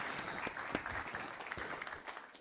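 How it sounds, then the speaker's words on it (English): A crowd at a startup pitch event applauds a speaker, a busy patter of clapping with a few louder, closer claps standing out, fading slightly toward the end. "Ladies and gentlemen, give him a big round of applause."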